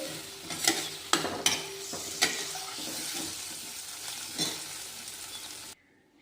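Potatoes and mixed vegetables cook in a pan for rava masala idli, with a steady close sizzle and several sharp scraping clinks of a spoon being stirred through them, stopping abruptly at the end.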